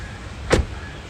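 A single short car door thunk as someone gets out of a car, one brief clear impact in an otherwise quiet interior.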